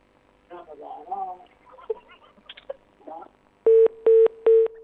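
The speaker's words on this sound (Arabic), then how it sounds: "انقطع الاتصال" A phone call-in line to a television program disconnects, with a voice speaking first and then three loud, evenly spaced beeps of a disconnect tone.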